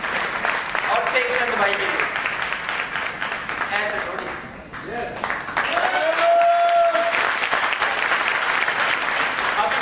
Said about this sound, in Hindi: एक बार कविता दीदी के लिए जोरदार तालियां